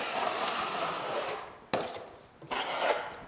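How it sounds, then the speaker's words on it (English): A drywall knife scrapes and smooths joint compound along a square corner bead, giving soft rasping strokes with a brief tap and pause between passes, close and fairly quiet. "as I rotate it around, I start laying the knife down as the mud comes off of it"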